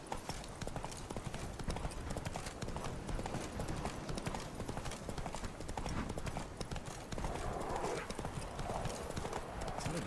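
Galloping horse hooves in The Witcher 3 pound in a fast, continuous, dense rhythm for the whole stretch, loud and close, with game ambience underneath.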